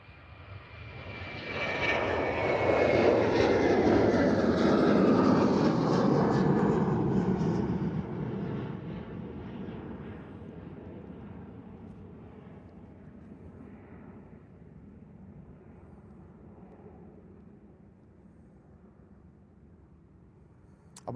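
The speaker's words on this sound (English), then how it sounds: "Jet 2 on the roll." A Jet2 airliner takes off at Liverpool Airport ahead of incoming rain, its engine roar swelling loud for several seconds, then fading into a long, steady distant rumble as it climbs away.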